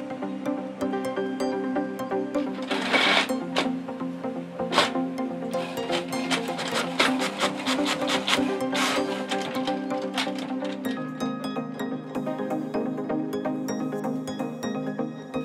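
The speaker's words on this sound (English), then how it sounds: "I have finished the setup and will print a test page." A Canon MAXIFY GX5000 series inkjet printer runs a test page, giving a steady close mechanical whir with repeated clicking and ratcheting bursts of the paper feed and print head throughout, with no talk.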